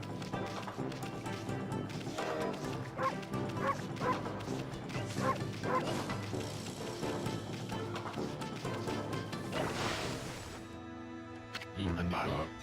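Dog barking in the video game Okami, repeated yips and bow-wows over continuous game music and effects, with a voice speaking at times.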